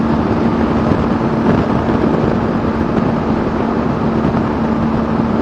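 A motorcycle engine pulls steadily in sixth gear with the throttle held open during an overtake, a loud, unbroken droning roar mixed with rushing wind noise and little change in pitch.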